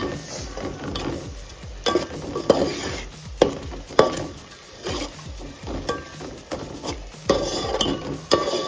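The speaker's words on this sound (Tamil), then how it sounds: "இந்த காரத்தெல்லாம் நல்லா மிக்ஸ் பண்ணிக்கோங்க" A spoon scrapes and stirs chilli spices around a pot for eggplant biryani in repeated strokes, with occasional metallic knocks over a faint sizzle.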